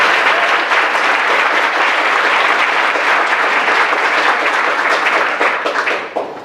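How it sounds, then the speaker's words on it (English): A town hall audience breaks into a steady, dense round of applause that holds loud and even for several seconds before starting to fade at the end. "Let's give them a round of applause."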